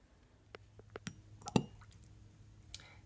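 Water dripped onto packing peanuts, giving a handful of sparse, soft squishy drops and small clicks spread out over a few seconds, one drop noticeably louder than the rest, in a quiet room.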